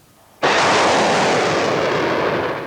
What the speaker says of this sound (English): The U.S. military today showcasing its multiple launch rocket system.